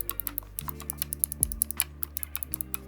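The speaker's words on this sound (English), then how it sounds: "you can hear the mechanical switches if you listen now" Rapid, irregular run of sharp mechanical switch clicks from a game controller's buttons, close and fairly quiet, over a faint low hum with no talking.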